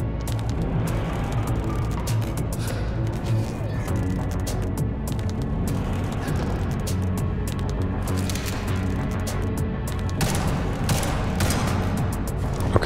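Dense, continuous gunfire in the cyberpunk noir video game Liberated, with rapid bursts and booms. It is layered over a busy mix of engines and effects, steady and loud throughout.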